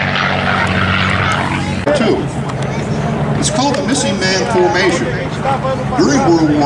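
A P-51 warbird rolls out on the taxiway, its propeller engine droning steadily beneath an announcer's voice and crowd chatter at an airshow.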